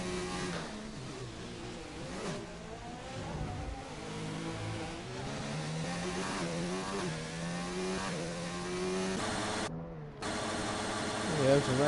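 Race car engines rev and whine through gear changes during a racing video game event at Austria, rising and falling pitches overlapping, with a commentator talking over them throughout.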